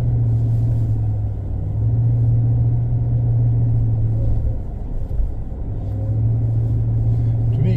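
A 2023 Chevy Silverado ZR2 Bison pickup crawling through deep sand at about 10 mph and near 2000 RPM, its engine a loud, steady low drone and rumble heard from inside the cab, without speech.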